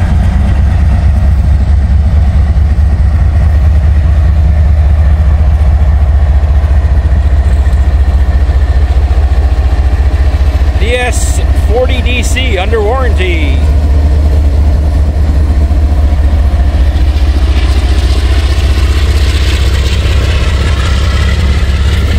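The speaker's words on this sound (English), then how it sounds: "Boy, that thing sounds rattly, like a old" A diesel locomotive idles with a loud, rattly low rumble that holds steady throughout, close by outdoors in farm country, with a short stretch of someone talking partway through.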